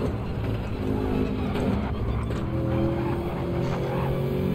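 A race car in Gran Turismo 7 drives with a steady engine drone and a faint tire squeal, the throttle dipping and rising without a break.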